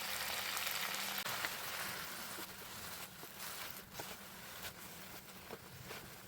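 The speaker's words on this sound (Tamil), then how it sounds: "கீரையை எண்ணெயில் நல்லா வதக்கி விட்டுக்கலாங்க." Greens such as gongura (sorrel leaves) sautéing in hot oil for Andhra-style pachadi, giving a steady close sizzle and crackle with faint stirring clicks throughout, no talking.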